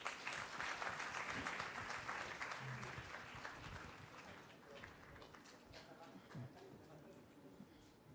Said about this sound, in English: amidst a good round of applause